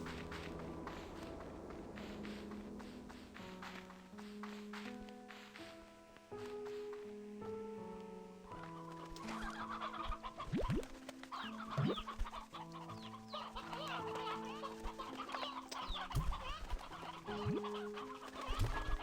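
Chickens cluck and a rooster calls in the farming game Slime Rancher 2, a busy overlapping flock chattering steadily over soft background music.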